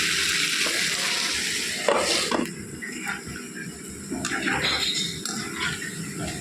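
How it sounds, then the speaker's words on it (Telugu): Chitti punugulu, small fried batter dumplings, sizzle and bubble steadily in hot oil, with a few louder crackling bursts and clinks from a utensil moving them, close by and with no talk. "ఇంకొక ఫైవ్ మినిట్స్ ఫ్రై అవ్వాలండి"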